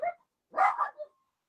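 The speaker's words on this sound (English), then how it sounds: "Sorry about my little dog barking in the background." A small dog barks a few times in quick succession, a sharp yap followed by a couple of shorter ones, then quiet.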